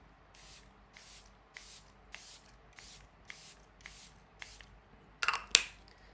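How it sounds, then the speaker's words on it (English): Charlotte Tilbury setting spray is misted in about ten short, soft bursts at a steady rhythm. The final two pumps sound closer and louder, with a little handling noise. "I'm going to go in with my Charlotte Tilbury setting spray"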